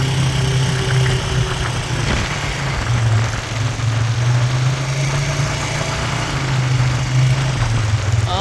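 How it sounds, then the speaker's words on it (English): A hay mower runs in a field, a loud, steady engine hum with a slight pulsing vibration and brief dips, close by and without voices. "Well, the mower's running good."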